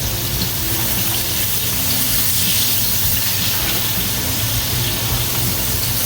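Potatoes steam-frying in a pan give a steady, close hiss and gentle sizzle that holds unbroken throughout, with no talking.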